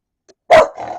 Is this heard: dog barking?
yes